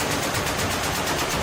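Spaceship cannons fire in a film sound effect: a dense, loud, continuous burst of rapid gunfire-like blasts that fills the whole moment without pause.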